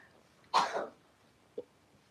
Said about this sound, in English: I know, it's dry cough.